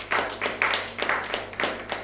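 A church congregation at a French-language worship service claps in a steady rhythm, about four or five sharp claps in two seconds, moderately close with a faint hum behind.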